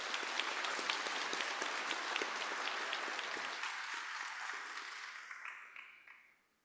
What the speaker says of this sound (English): I'd like to give her another round of applause